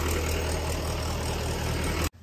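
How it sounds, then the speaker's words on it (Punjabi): A generator engine runs steadily at close range, a constant low mechanical drone with a high whine above it, cutting off abruptly near the end. "ਜਨਰੇਟਰ ਲਾ ਤਾ ਉੱਧਰ ਲਾਈਟ ਵੀ ਆ ਗਈ"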